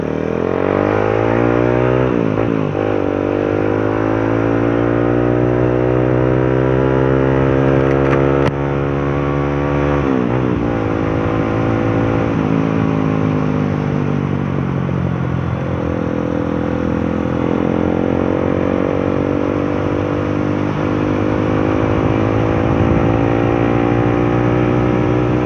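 A motorcycle cruises along a smooth, traffic-free road near Prieto Diaz, Sorsogon, its engine humming loud and steady with rising and falling pitch through gear changes and throttle, accompanied by continuous wind rush.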